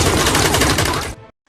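Gunfire from the action film Salt, a dense burst of loud rapid shots blending into a continuous roar that cuts off abruptly into silence.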